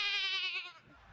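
A man imitates a sheep bleating, giving one sustained, wavering nasal baa that sounds close, before it stops and leaves a short quiet with faint room noise.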